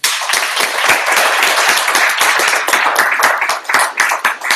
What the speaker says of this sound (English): So round of applause for all the people who make this happen.